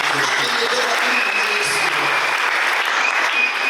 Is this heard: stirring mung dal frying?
no